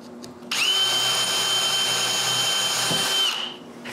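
A power drill whirs up and runs steadily at high pitch for about three seconds drilling holes in wood for drawer pulls before winding down, close and loud with no talking.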